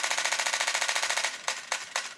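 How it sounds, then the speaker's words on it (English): A Canon EOS R10 mirrorless camera fires its shutter in a fast burst, a rapid even stream of crisp clicks that then slows to three spaced shots as the buffer fills, close and clear with no voices. "if you're going to use the burst on this camera, because it will take advantage of it"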